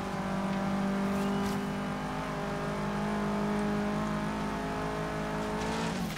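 Car driving and drifting in the Forza Horizon 3 racing game: a steady, loud engine drone with sustained harmonic tones and tire squeal through the drift, continuous with no voices.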